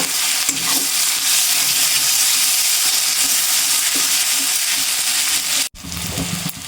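Garlic and ginger fry in hot oil for a mutton curry, giving a steady loud sizzle with stirring scrapes throughout and a brief cut near the end before the frying resumes.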